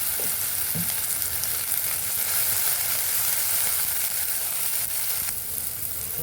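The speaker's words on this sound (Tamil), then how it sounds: "நல்லா வதக்கி விட்டுக்கோங்க" Roasted eggplant sautés in a pan for baingan bharta, giving a continuous loud sizzle and hiss with faint stirring scrapes throughout.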